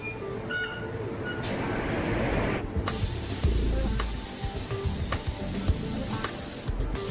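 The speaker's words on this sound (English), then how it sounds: "Only when it's flawless will paint be applied." A spray gun paints a Koenigsegg car body part in the factory, giving a loud, continuous hiss with brief pauses and workshop clatter.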